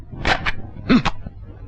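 Stray dogs barking in a comedy scene, a couple of short bark-like bursts close by with a lower yelp between, with faint voices underneath.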